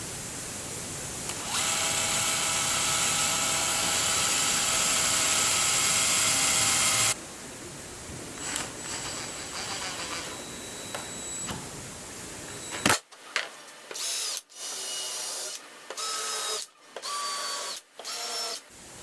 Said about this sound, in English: I'm just going to drill through the surface of the laminate.